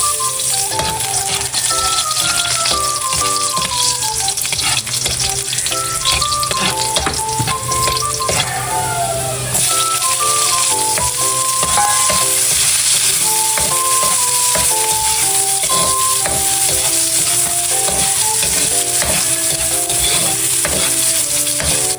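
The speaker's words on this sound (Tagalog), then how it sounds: "Ako po muna ay magigisa po ng bawang at sibuyas." Garlic and onion sautéing in a pan, a loud continuous sizzle with stirring scrapes throughout, close up, no voices.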